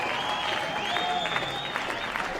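A crowd at an AFL preliminary final between Pennant Hills and St George cheers and applauds loudly, a dense continuous roar of clapping with whistles and shouts rising over the noise.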